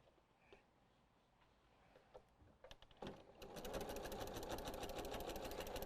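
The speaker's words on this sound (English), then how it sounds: "Back to the sewing machine." A sewing machine starts up after a quiet moment and runs steadily, its rapid needle stitching loud and close.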